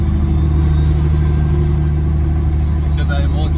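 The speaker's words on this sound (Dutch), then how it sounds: "Ik zit even mooi te luisteren naar het uitlaatje." Exhaust of a truck idling on a hot day, a steady low drone close by, with a faint rising tone near the end.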